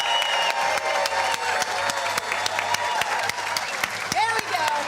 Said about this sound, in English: Let's give one more round of applause to the class of 2020.